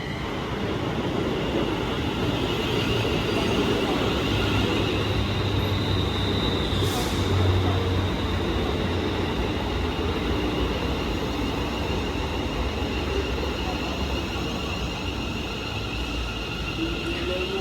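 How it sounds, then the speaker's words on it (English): A Class 350 electric train bound for Stafford rolls into Stoke-on-Trent station with a loud, steady rumble of wheels and motors that holds for the whole stretch, with one brief high squeal partway through. "The train now arriving in is a 350 going to Stafford."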